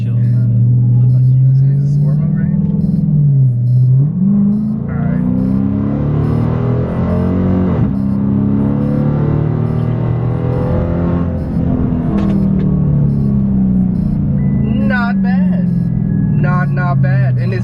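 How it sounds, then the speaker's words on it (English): Chrysler 300S V8 engine rumbling close by, deep and loud, with its pitch rising and falling through several revs over a long stretch while someone talks over it. "especially Dodge V8s, it's just so loud, so rambunctious, so out there, so in your face, like you just hear it miles away"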